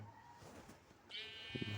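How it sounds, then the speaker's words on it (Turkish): Sheep bleating inside the Minecraft video game, a short faint bleat in the middle of quiet game ambience, followed by a couple of soft knocks. "bir tane koyun sesi duydum"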